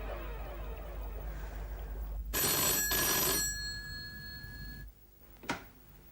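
A telephone rings with a bright, trilling burst, pauses, then chimes again briefly at the end, heard fairly close over a quiet room hum.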